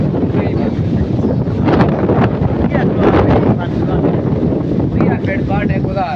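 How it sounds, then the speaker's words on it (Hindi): Strong wind blows during rainy weather in Peshawar. It buffets the microphone as a loud, steady roar that lasts the whole stretch, with a faint voice under it. "ये देख हवा चल रही है, रोज ये मौसम बना हुआ है।"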